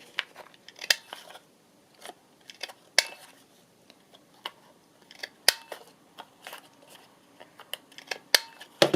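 Scissors snipping paper to round off the corners of a card, a series of short, crisp close cuts at uneven intervals with quiet pauses between, no talking.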